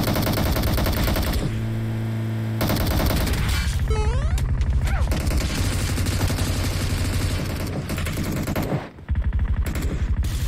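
Gunfire in the mobile battle-royale game PUBG Mobile, with loud bursts of rapid automatic shots and single cracks over game sounds, including a short steady tone and rising chirps, with no voices.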